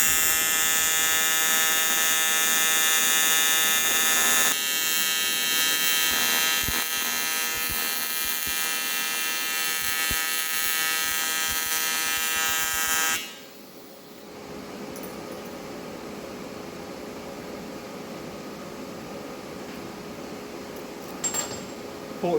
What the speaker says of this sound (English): So let's get this thing welded up.